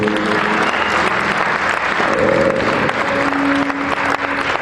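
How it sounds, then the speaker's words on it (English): A church congregation at a conference claps hands together in a dense, steady wave of applause that fills the room, with faint sustained tones underneath. "Let's clap hands for them today."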